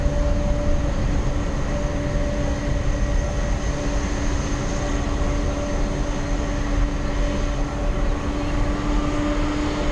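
Aircraft roaring past at Dublin Airport, a loud, continuous rumble with steady engine whine that holds for the whole stretch, close and dominant, with no talk over it.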